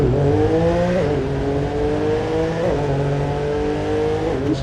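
A loud car engine revs and drones continuously in a video game, its pitch climbing and dropping through gear shifts, with a synthetic, game-like tone.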